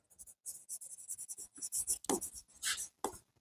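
Marker or chalk writing on a board during an accounting lesson, a run of quick scratchy strokes in short bursts separated by brief pauses, close and fairly quiet with no talking.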